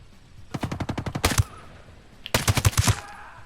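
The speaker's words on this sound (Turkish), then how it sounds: "Sıcak çatışma istemiyorduk." Automatic gunfire crackles in a firefight in the video game Ghost Recon Breakpoint, with two loud, close bursts of rapid shots separated by a short pause.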